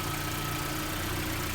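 Lada Priora engine idling after a hydraulic lifter oil flush, a steady low hum with an even mechanical drone and no ticking evident, heard alone without speech.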